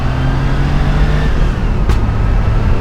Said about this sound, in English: Had a little backfire there